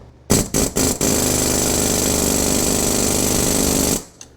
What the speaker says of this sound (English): Just an air hammer makes it real easy.